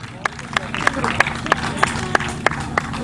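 Crowd applause after an Italian tribute band's live outdoor concert in Cavarzere, steady clapping with sharp claps punctuating the ongoing hubbub of a mixed audience.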